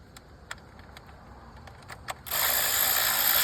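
Ratchet working on the engine bay of a Kia Sorento during a valve cover gasket job, with a few sharp isolated clicks and ratcheting ticks, then a sudden louder continuous mechanical rasp near the end, close up with no talk.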